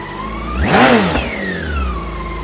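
A vintage German motorcycle engine revs up sharply to a loud peak, then falls back to a steady idle, all close by with no voices.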